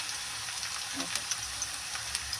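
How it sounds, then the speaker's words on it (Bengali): Potatoes, onions and peas frying together in oil, a steady soft sizzle with faint crackles and pops, under someone speaking. "আলুটা কিন্তু ভাজা হচ্ছে"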